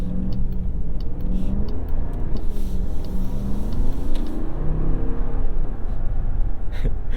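A 2022 Jeep Grand Wagoneer SUV engine roars steadily and rises in pitch as it accelerates, loud and close, with a deep rumbling rasp throughout.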